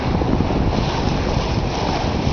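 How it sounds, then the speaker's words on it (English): Steady 15 to 18 knot wind buffeting a sailboat at sea in the South Pacific, a loud, continuous roar with rushing water noise underneath and no talking. "Wind is still steady, blowing 15, 18 knots, something like that."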